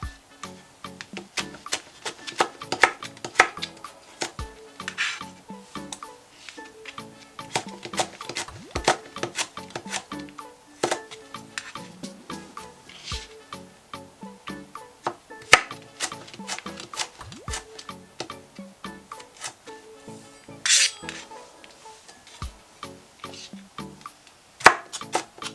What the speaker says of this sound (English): Once it's sliced, you can do the julienne.